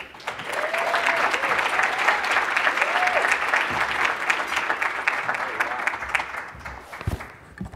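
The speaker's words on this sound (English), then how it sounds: "Thank you for that wonderful and very nice applause" Conference audience applauding a speaker's arrival, dense sustained clapping that swells and then tapers off over several seconds, with a few voices mixed in.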